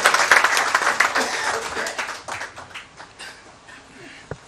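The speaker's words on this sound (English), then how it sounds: "Can we have a round of applause for the Honorable Chief Justice of India" Applause for the Chief Justice of India at a Supreme Court Bar Association gathering, a dense burst of clapping that thins out and fades over a few seconds, ending with a few scattered claps.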